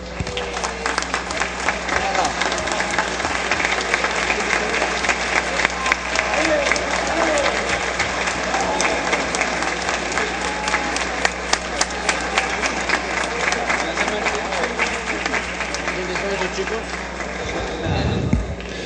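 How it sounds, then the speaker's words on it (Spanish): Lawmakers in a congressional chamber applaud in a long, steady round of clapping that fills the room for close to twenty seconds, with scattered voices under it. "creo que el aplauso ha sido insuficiente"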